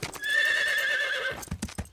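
An animated horse on a ranch gives one long, loud neigh. Quick clip-clop hoofbeats follow at the end.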